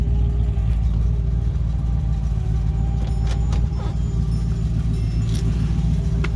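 Interior of a 1958 Chevrolet Impala Sport Coupe with a 348 V8 and Powerglide automatic cruising around the block, a low steady engine rumble with faint rattles and jingles, no talk.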